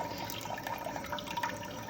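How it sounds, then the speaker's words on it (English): Water leaks from a toilet supply point, a continuous faint trickling and hissing flow, close by, with no talk. "You can probably hear the water in the video"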